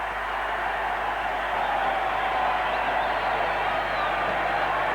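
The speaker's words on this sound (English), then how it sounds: "The crowd has been in a complete uproar for this whole game." A large rugby league grand final crowd at Lang Park keeps up a steady, dense roar that sounds broad and slightly distant, with no clear breaks.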